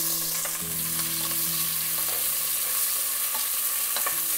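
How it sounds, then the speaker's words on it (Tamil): Sliced onions and green chillies fry in a pan with cardamom, cloves and a bay leaf for mushroom biryani, a loud, continuous hiss and sizzle with occasional stirring knocks and a low hum underneath. "வெங்காயம் நல்லா பொன்னிறாக ஆகிற வரைக்கும் வணக்கிக்கணும்"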